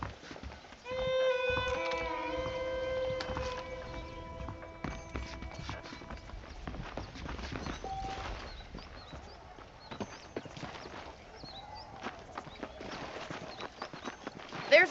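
A horse ridden in the video game Red Dead Redemption trots along with rhythmic clip-clop hoofbeats, heard under game music and someone talking.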